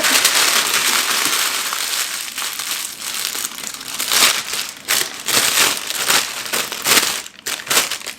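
Baking parchment paper crinkles and crumples close up, crisp rustling bursts coming in irregular waves, with no talking.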